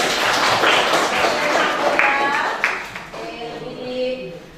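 A school class claps hands in a classroom, a burst of many quick claps that thins out toward the end, with a voice speaking over it.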